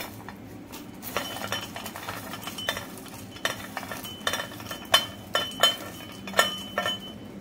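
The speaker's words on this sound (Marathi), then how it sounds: "थंड झालं आहे, आता मी खलबत्त्यामध्ये ठेचून घेते" Roasted chillies being pounded in a mortar and pestle, a series of irregular hard knocks and clinks growing louder and more frequent toward the end, close-up with no talking.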